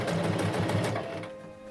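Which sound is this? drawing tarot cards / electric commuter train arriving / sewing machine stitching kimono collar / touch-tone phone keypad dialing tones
sewing machine stitching kimono collar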